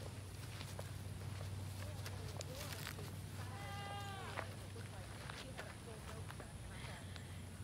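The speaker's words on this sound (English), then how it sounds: "Yeah, the goats are in the middle of the road." Goats bleating on a road in a small town on Jackson Lake Island, Alabama, one clear quavering call in the middle, with footsteps and steady background noise around it and people talking nearby.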